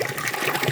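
Water rushes steadily from one large filtered village water tank into another in rural Sindhuli, a dense, splashing gush heard up close without any voices.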